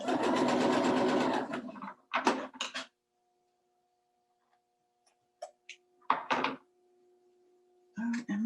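A home sewing machine stitches a fabric quilting seam in a loud, close burst that stops, followed by a few short stitching spurts and small mechanical knocks separated by near silence.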